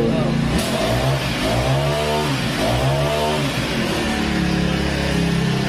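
A brush cutter's small two-stroke engine revving repeatedly, rising and falling in pitch in close, loud waves, with voices speaking nearby.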